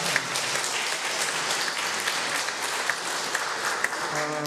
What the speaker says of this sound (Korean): 박수 한번 해주시고요